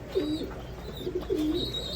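Red Lahori fancy pigeons coo in soft, low repeated phrases, two rounded calls close by with a faint higher chirp in between.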